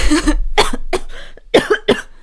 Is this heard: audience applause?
no